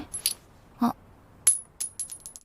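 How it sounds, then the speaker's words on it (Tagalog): A coin tossed to the ground, landing with a few short metallic clinks and bounces spread over about two seconds, fairly close and without any talk. "At hinagisan niya ito ng barya papunta sa kinaroroonan nito."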